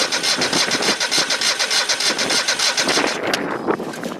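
An old engine pulled from a shed cranks, then catches and runs at a rough, pulsing idle close by, loud and steady before tapering near the end.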